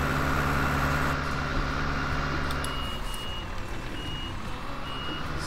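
A vehicle driving in Farming Simulator 19, its steady engine drone running throughout with intermittent reversing beeps and a faint hiss, close and continuous without talk.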